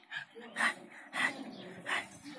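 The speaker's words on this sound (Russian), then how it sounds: "Хороший пес, хороший, хороший." A friendly dog close by gives soft, whiny whimpers in short bursts, about four quick yelps over two seconds, fairly quiet, with faint breathy sounds between them, on a drizzly 100 km outing around Sumgait.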